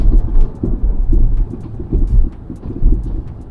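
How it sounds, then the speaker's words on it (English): Dull, deep thuds knock from the rear suspension of a nearly new Jeep Grand Cherokee 4xe driving over speed bumps, several heavy low impacts in an irregular rhythm over steady road and cabin rumble. "We will hear such deaf hits from the rear suspension."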